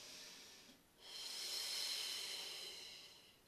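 Slow, audible breathing during a pilates exercise: a soft breath, a brief pause, then a long, steady hissing exhale, close and fairly quiet.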